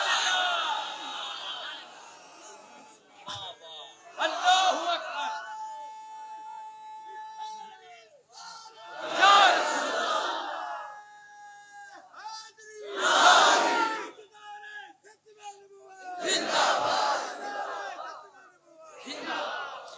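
A large gathering at a Rabi ul Awwal religious gathering shouts devotional slogans in loud, repeated bursts, each surging call answered by the crowd, with spoken lines between the chants.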